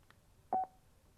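A Freecom 4 intercom unit sounds its shutdown tone after the intercom and minus buttons are pressed together: a single short two-part electronic beep, clear and close, with a faint click just before it.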